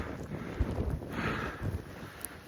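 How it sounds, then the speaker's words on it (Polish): Strong winter wind gusting across the summit of Turbacz in Poland, a rough broadband roar buffeting the microphone close up with uneven surges and no talk. "Wieje."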